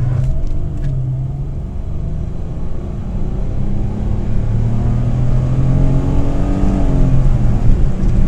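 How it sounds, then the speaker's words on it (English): A 2004 Pontiac Grand Am with the 3400 SFI V6 accelerates hard from a standstill toward 60 mph, its engine droning loud and steady as the revs climb and shift through gears, with no talking. "2004 Pontiac Grand Am, 3400 SFI engine, 0 to 60."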